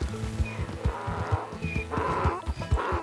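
A zebra in Red Dead Redemption 2 brays donkey-like with harmonic honks, repeating over a busy game soundscape, loud and close, stretching across several seconds.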